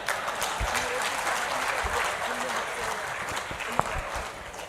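Steady audience applause at a Gujarati motivational talk, dense clapping filling the whole stretch at moderate distance, with no voices rising above it.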